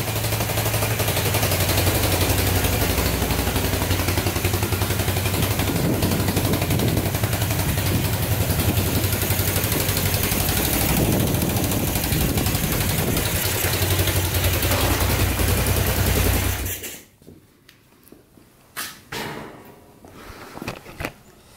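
A Yamaha XT 500 motorcycle engine idles steadily and loudly with a rough, throbbing rumble, then cuts off abruptly, leaving a few clicks and knocks.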